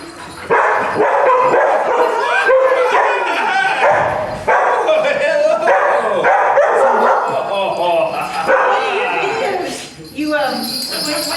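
Dogs bark repeatedly, close and loud, with people talking over them throughout.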